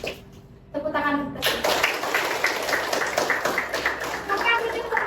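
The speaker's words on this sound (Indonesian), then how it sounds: "Tepuk tangan." Children clapping their hands together in a classroom activity, a burst of quick claps starting about a second in and continuing steadily, close and fairly loud, with voices mixed in.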